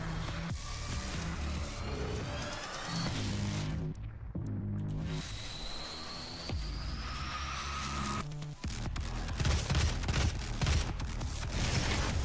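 Rapid, heavy gunfire from the first-person shooter DOOM (2016), loud and nearly continuous bursts packed close together with no voices over it.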